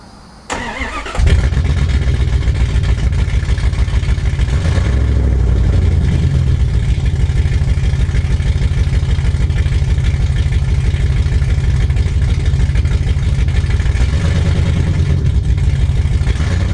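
A car fitted with a homemade 3-inch exhaust cranks and fires up, then settles into a loud, steady, throbbing idle that runs on close by without any talk.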